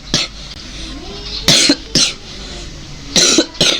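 Several short, harsh coughs from a person, about five bursts spaced irregularly over a few seconds, close and loud against a quiet room background.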